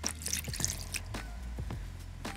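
Water pours into a pasta cooking pot that already holds white wine, lemon peel, garlic and lemon juice, heard as a run of close, uneven splashes and drips.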